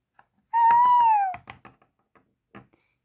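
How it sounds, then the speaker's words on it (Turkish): A single clear cat meow, close by, followed by a few soft knocks and taps. "Ay ne şirin kedisin sen ya."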